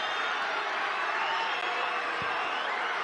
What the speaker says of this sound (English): just hear that crowd